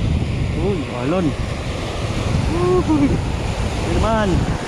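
Ocean surf roars steadily with wind noise, while a voice speaks briefly over the crashing water several times.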